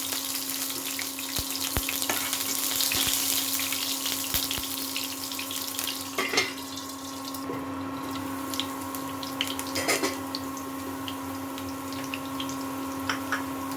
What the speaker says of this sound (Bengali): তারপরে একটু কালো জিরে ফোড়ন দিয়ে দেবো। এরপরে রসুনটা দিয়ে দেবো।